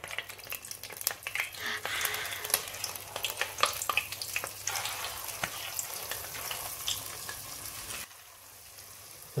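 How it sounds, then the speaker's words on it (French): Choux pastry churro dough fries in hot oil at about 160 degrees, crackling and popping densely and close for several seconds before the bubbling drops to a softer, quieter hiss near the end. "Maintenant, on va mettre la pâte à choux dans l'huile."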